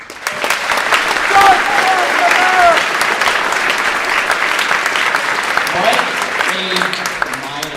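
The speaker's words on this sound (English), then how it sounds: "Give a round of applause for that." An audience at a high school Veterans Day celebration breaks into loud, sustained applause, a dense wash of clapping that swells and then holds steady, with a few voices mixed in.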